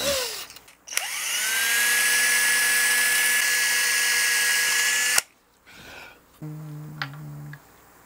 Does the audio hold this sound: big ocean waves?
no